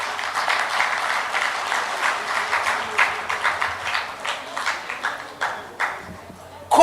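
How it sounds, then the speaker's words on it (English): Sustained crowd applause fills an award night ceremony as the special awards open with basketball, a dense, steady clapping that swells and ebbs in waves for several seconds before a sharp burst at the end. "Round of applause for basketball."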